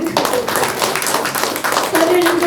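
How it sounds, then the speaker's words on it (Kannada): Crowd clapping for an organisation's members at a Hassan event, brisk dense applause close by for a couple of seconds. "ಅವರಿಗೆ ಒಂದು ನನ್ನ ಕಡೆಯಿಂದ ಚಪ್ಪಾಳೆ."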